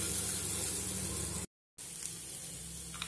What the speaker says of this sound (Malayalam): ഇനി ഇതുകൂടെ നന്നായിട്ട് മൂത്ത് വരുന്നിടം വരെ നമുക്ക് ഇളക്കി കൊടുക്കാം